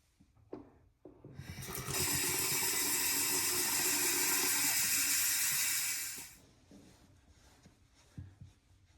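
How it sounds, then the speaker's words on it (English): Tap water running into a sink to rinse a Phoenix Cygnus razor after a shave: a few small clicks, then a loud steady rush for about four seconds that cuts off, followed by light handling taps. "Let's rinse."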